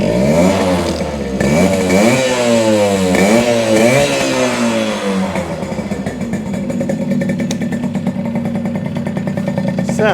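A 1974 Yamaha RD60 two-stroke motorcycle kick-starts and runs up, loud and close, with revving that climbs and falls repeatedly before settling into a steady, buzzing idle.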